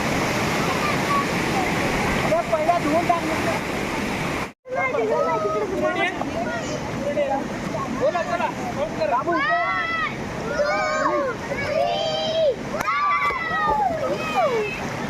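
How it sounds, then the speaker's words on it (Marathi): A waterfall on a farm-stay stream where people are bathing gives a steady, loud rush of falling water throughout, with excited voices and shouts rising over it after a brief cut. "बघा सर्वजण धबधब्यावरती निघाले पाणी स्वच्छ पाणी एकदम"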